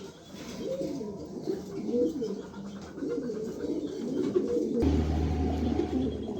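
A pair of pigeons coo in repeated soft, throaty rolling phrases, close and fairly clear, with a low steady hum joining in toward the end.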